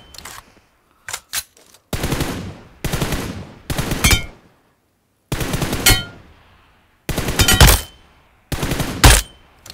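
Automatic rifle spray fire in PUBG Mobile: seven loud bursts of rapid gunfire separated by short silences, some brief and clipped, others sustained for about half a second, with no talking.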